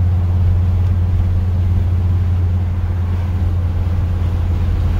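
A 1955 Chevy race car with a 327 engine drives along, a loud, steady, low engine drone and rumble heard from inside the car, holding an even level throughout with no speech.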